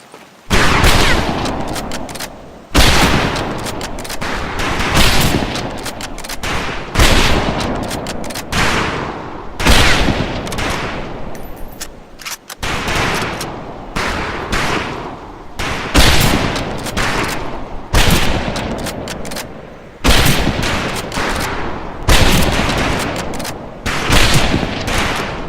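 Rifle gunfire on a firing range in the World War II shooter Medal of Honor: Pacific Assault, a long run of loud, sharp shots fired in close bursts and volleys with short pauses between them, nearby and with no talking.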